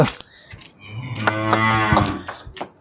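A cow moos loudly and close by, one long low bellow with some rustling and knocking before and after it.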